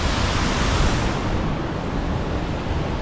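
Water rushing steadily at Bogatha waterfalls, a dense, constant roar close by with no pauses or voices.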